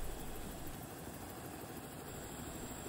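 A crop-dusting helicopter idles nearby, its engine giving a steady, low, broadband drone with a faint rotor throb, quiet and unchanging throughout.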